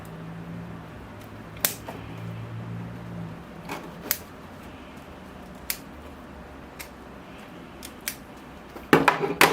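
Sharp snips cut through the roots of a bloodwood bonsai tree being repotted, scattered single clicks over a quiet background hum, ending in a quick flurry of cuts.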